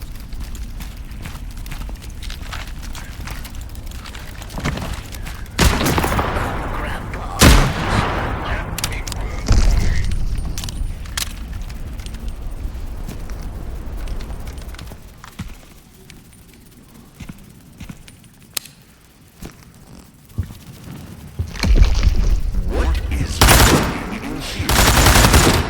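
Gunfire in the survival shooter Into the Radius 2, loud single shots and rapid bursts scattered irregularly across the clip, some close and sharp, with quieter gaps between exchanges.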